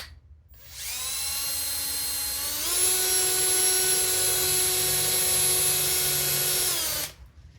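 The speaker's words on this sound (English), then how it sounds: "Always drill on low speed" A power drill whines at a steady high pitch while boring into material on a C10 pickup truck, jumping to a slightly higher speed partway through before cutting off abruptly, with a brief quiet before and after.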